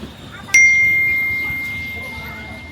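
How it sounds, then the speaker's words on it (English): A phone chimes once with a sharp, bright notification ding that rings out and fades slowly over a quiet rural backdrop in provincial Thailand. "a message popped up on my phone from her"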